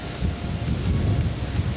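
Cold wind blowing outdoors by the water during catfish fishing, a steady low buffeting rumble against the microphone, with no talking.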